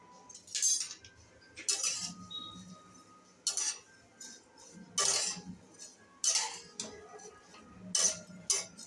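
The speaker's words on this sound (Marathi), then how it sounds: "आता आपण शेवया भाजून घेऊया." Fine vermicelli being dry-roasted for semolina kheer, stirred in a pan with repeated scraping, clinking spoon strokes in bursts about every second, close and clear with no talking.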